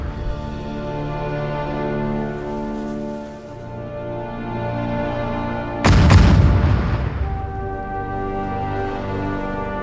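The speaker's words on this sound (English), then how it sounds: "The artillery fire is coming from somewhere south of here." Heavy artillery fire in the WWII strategy game Sudden Strike 4, a D-Day mission: one loud, close boom bursts out over a steady low battlefield rumble and drone, then the din settles back.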